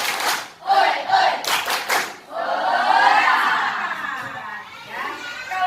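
A classroom of children in an Indonesian school lesson performs a spirit clap chant: a few sharp rhythmic group claps, then loud, energetic shouted calls from the class that trail off into scattered voices.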